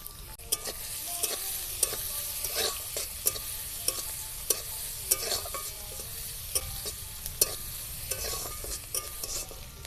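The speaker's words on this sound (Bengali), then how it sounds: "পেঁয়াজটা লাল লাল করে ভেজে নিয়েছি" Finely chopped onions fry in a little oil in a kadai, giving a steady sizzle broken by sharp, repeated scraping clicks from stirring, close by with no voices.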